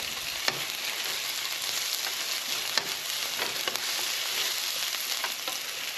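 Annatto (achiote) sizzles steadily in a frying pan for Spanish-style frijoles, a constant crackling hiss with a few sharp pops, close and alone.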